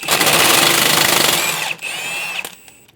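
Rear shock absorber top nut on a 2010-2015 BMW X1 xDrive being spun off with a 17mm socket while a 15mm wrench holds the strut, a loud continuous whirring rattle that cuts briefly, resumes, then stops near the end.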